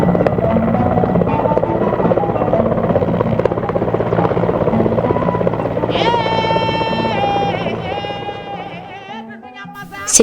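Military helicopter rotor and turbine drone evacuating wounded soldiers, loud and steady throughout, with a rising whine entering partway through and voices faint beneath.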